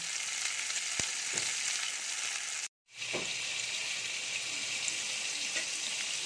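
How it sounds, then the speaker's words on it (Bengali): Pointed gourd and potatoes frying in hot oil, giving a steady, dense sizzle close by with a couple of faint knocks and a brief break partway through. "পটলগুলো আগে একটু ভালো করে ভেজে নেব, তারপরে এর মধ্যে আলুগুলো দিয়ে ভেজে নেব।"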